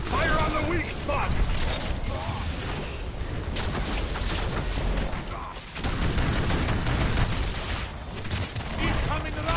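Gunfire and mechanical weapon clatter from the video game Evolve, a dense, continuous barrage of shots and booms with little pause, mixed under a layer of game noise.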